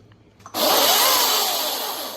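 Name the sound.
Greenworks 80V brushless cordless chainsaw running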